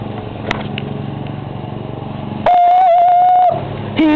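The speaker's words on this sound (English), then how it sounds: "He's the man on the lawnmower." Riding lawn mower engine running at a steady, droning rumble through the first two and a half seconds, then cut off by a loud sustained whistling tone, with the engine drone returning briefly near the end.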